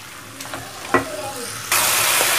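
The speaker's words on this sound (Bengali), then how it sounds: "মুগ ডালটা আমি ভালো করে ভেজে নেব" Moong dal frying in a pan, heard as a few brief clinks and scrapes followed by a sudden loud, steady sizzle that fills the last second, close by, with no voices.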